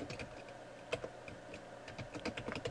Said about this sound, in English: I'm typing in my ICC username.